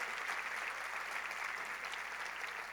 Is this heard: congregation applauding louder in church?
yes